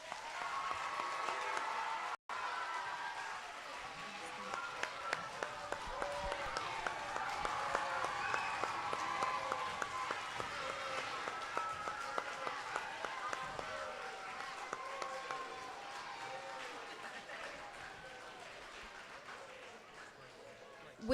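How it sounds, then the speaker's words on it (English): An audience applauds spelling bee contestants standing on stage, a sustained wash of many hands clapping that holds steady for about twenty seconds, with some voices mixed in. "Let's give the contestants another round of applause."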